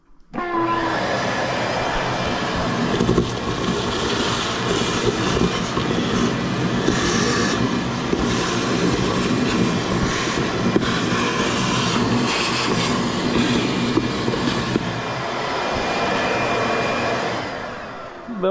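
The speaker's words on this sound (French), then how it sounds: "On va passer la balayeuse là-dedans." A shop vacuum runs inside a carburetor workshop for a quad bike, making a loud, steady, close whooshing roar that holds at the same level for the whole stretch, with no talking over it.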